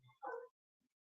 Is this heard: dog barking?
yes